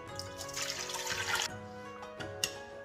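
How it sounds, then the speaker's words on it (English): Water pours into a cooking pot holding dissolved tapioca starch for a Khmer mung bean dessert, a soft trickling splash under faint background music and a brief louder splash near the end. "now let us put our water ដាក់ទឹកយើងណា ចូលទៅក្នុងឆ្នាំង"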